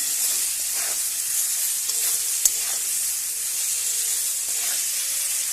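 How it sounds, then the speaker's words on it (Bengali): Small fish with cumin powder and salt being stirred in a hot pan, a continuous sizzle and hiss with occasional scraping strokes and one sharp click midway. "পরিমাণ মতো লবণ, অল্প কিছু সময়ের জন্য কিন্তু একটু নেড়ে চেড়ে নেব।"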